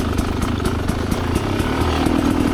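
A dirt bike engine with a plug that won't rev out cleanly, running in a close, loud, rough rapid chug with slight uneven pulses throughout.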